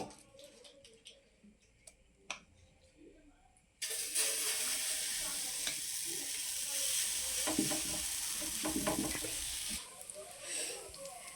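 Gram flour omelette batter hits hot oil in a pan and bursts into a loud, steady sizzle that continues almost to the end, after a quieter stretch of light kitchen clinks and taps.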